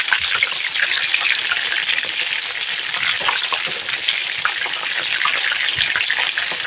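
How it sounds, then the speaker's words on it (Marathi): Soybean tikka bhaji deep frying in hot oil, a loud, continuous, close-up hiss and bubbling crackle that holds steady throughout with no voices. "आपल्याला तीन ते चार मिनिटं छान आपली सोयाबीन भाजी तळून घ्यायची"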